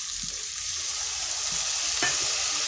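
Spice paste frying in a pan for egg bhujia, with a splash of water added partway through that brings a brief rise in hiss. Steady sizzling continues throughout, with occasional stirring scrapes and no talking.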